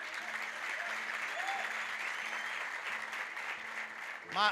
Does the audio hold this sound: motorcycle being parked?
no